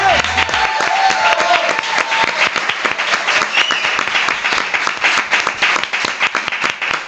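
Sustained applause from a studio audience at a Spanish comedy show, dense and loud throughout with steady clapping and no pause.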